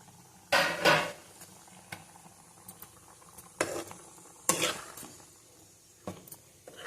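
Chicken curry being mixed in a pan, with a handful of separate scraping clatters of a utensil against metal spread over a quiet background.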